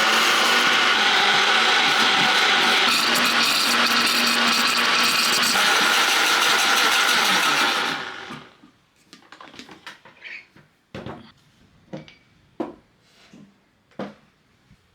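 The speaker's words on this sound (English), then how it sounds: "Then we blend." A blender whirs loudly and steadily for about eight seconds, blending kiwi, cucumber, celery, pear and sparkling water, then cuts off, leaving a few clinks and knocks of handling.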